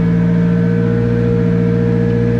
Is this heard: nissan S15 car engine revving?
yes